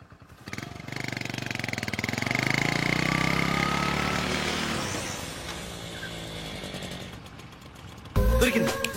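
A motorbike engine runs loudly and close in a Telugu comedy movie scene, a steady buzzing drone that swells and then fades away, ending with a brief abrupt noise.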